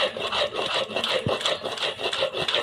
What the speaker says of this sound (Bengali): এখন আমি এটাকে আবার একটু মিহিন করে বেটে নিব